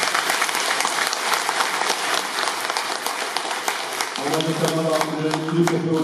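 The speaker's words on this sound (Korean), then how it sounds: "큰 우리 사랑의 박수를 보내드립니다" A congregation applauds in a Catholic church, a dense, loud burst of hand clapping that carries on steadily, with sustained music tones entering partway through.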